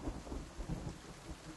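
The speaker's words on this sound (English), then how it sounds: "the rains will come and they will go within like 10 seconds sometimes" Thunderstorm in the dinosaur survival game The Stomping Land: a dense wash of heavy rain with low rolling thunder rumbles pulsing underneath, loud and close, with no voices.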